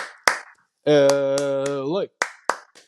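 Close, sharp hand claps in a UCLA Bruins eight-clap cheer. A few single claps come before a long sustained shout, and more claps follow it, with no crowd behind.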